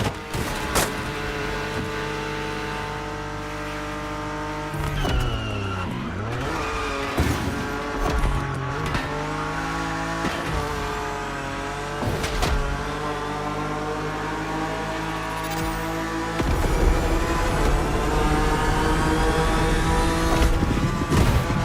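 BMW M4 racing car in The Crew Motorfest, a loud sustained engine note with rising and falling revs and gear changes, held close throughout, with a steady roar that swells louder near the end.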